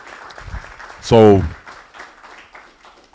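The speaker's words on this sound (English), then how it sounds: "Round of applause." Audience applause at a US Department of Justice event marking two years of community violence intervention: clapping rises under a speaking voice, peaks with a loud whoop or cheer partway through, then fades back beneath continued talk.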